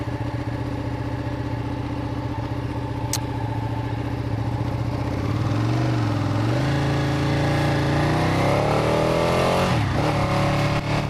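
A 2016 Ducati 959 Panigale sportbike accelerates on the road, its engine note climbing through the gears in rising harmonic sweeps, loud and close with steady wind and road noise throughout.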